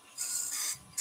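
Hand sanding of a small wood-turned piece, two short raspy strokes of abrasive rubbing against wood, close and fairly quiet.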